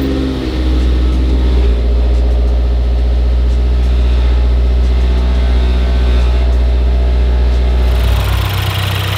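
A Mazdaspeed 3 engine, freshly fitted with an oil catch can, fires up and settles into a steady, loud idle that holds for several seconds before dropping off near the end.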